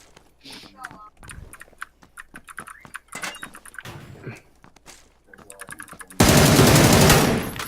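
Rapid automatic gunfire bursts during shooting practice in the battle royale game PUBG, sharp repeated shots clustered between excited voices, ending in a loud sustained blast of fire.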